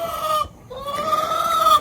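Chickens cluck and crow nearby in a short burst of fowl calls, with a brief pause before the clucking resumes.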